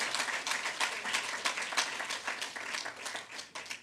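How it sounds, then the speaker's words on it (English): Sustained applause from a lecture audience after an Independence lecture, dense steady clapping filling the hall for about four seconds at moderate level with no talk over it. "another round of applause for Mr."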